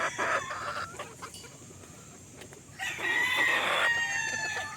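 Gamefowl roosters of Tornado and Perfection Roundhead bloodlines crow and cluck in a yard, with several overlapping crows standing out loudly near the middle and end over steady background clucking.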